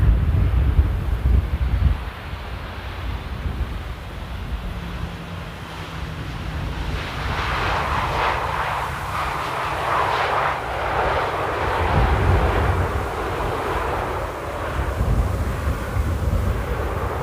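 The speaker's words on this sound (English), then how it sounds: "And there we have a Ryanair coming from a windy Dublin." A Ryanair airliner from Dublin comes in to land at Amsterdam Airport in strong wind, its engines a broad continuous roar that swells mid-approach over steady gusting wind noise outdoors.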